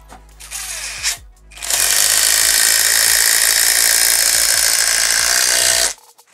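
A WORX WX261 cordless impact driver drives a screw. Brief motor whirs give way to a loud, sustained hammering rattle that stops abruptly.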